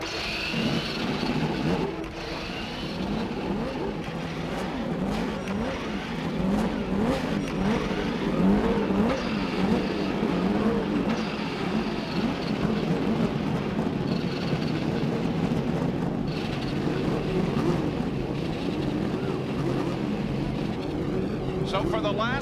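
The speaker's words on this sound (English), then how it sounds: "the Indy cars roar into life" Indy cars at the 1992 Kodalux Processing 300 start their engines and roar off, a dense field of 28 cars building a loud, continuous, rising engine drone under a commentator's voice.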